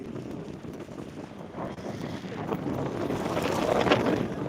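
Steady wind buffets the microphone outdoors beside the Lower Manair Dam lake in Karimnagar, with a low rushing roar that builds gradually; no one speaks.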